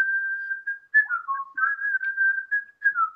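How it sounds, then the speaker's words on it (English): A person whistles a short wavering melody alone, clear close tones sliding up and down with brief gaps, no talking. "We're trying to do my special whistle."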